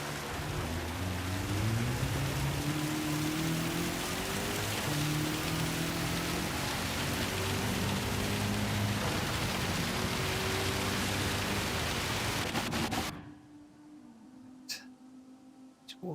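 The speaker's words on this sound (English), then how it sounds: "It's awfully noisy with the rain." Heavy rain in a Gran Turismo 7 race hisses as a loud, constant broadband wash over a droning car engine whose pitch rises and shifts, then cuts away abruptly to near quiet with a few faint clicks.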